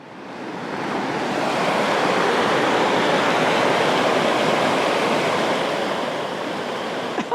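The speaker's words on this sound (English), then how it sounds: "The river was running just too fast." Fast-flowing river near the ruins of Bolton Priory, heard as a loud, steady broadband rush of churning water that swells in over the first second and holds constant, with no voices.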